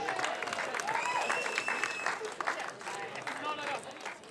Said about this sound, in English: give a big round of applause to Paddy and the guys at the Pump House